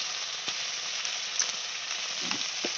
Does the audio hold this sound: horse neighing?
no